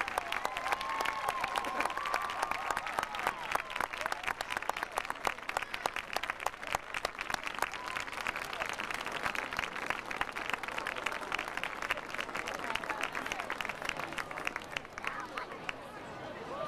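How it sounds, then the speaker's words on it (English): A stadium crowd at a high school football game's band night applauds senior band members, a long, steady wash of clapping from many hands that fades slightly near the end. "a nice round of applause for these Scotty's senior band members."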